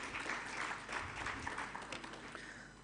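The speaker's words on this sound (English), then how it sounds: "A round of applause for Isobel." Applause from a conference audience greets a speaker after her introduction, a fairly faint, continuous patter that thins slightly toward the end.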